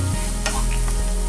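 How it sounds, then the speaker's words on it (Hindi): A raw banana sweet mixture with milk powder is stirred in a pan over low flame, a soft scraping and faint sizzle with a couple of light clicks of the spoon, close and steady. "तब तक हमें इसे मिक्स करते रहना है"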